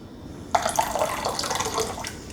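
Water pours steadily into a cooking pot for flaxseed hair gel, starting abruptly and continuing as a close, splashing, bubbling stream with no talking.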